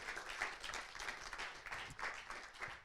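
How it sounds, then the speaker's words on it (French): Audience applause for Natacha Guyader at the MT180 2022 regional final at CY Université, a faint, distant wash of many hands clapping that continues evenly throughout. "On t'applaudit, Natacha Guyader."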